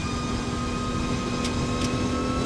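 An aircraft's engines throttle up for takeoff in the X-Plane flight simulator, a constant broadband roar with steady whining tones and no talking.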